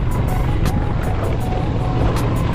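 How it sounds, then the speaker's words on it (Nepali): A tractor passes along a dusty rural road in Udayapur, Nepal, its engine rumbling loud and steady throughout with broad road noise and no voices. "गाडी आयो कि ट्र्याक्टर जाँदो रहेछ"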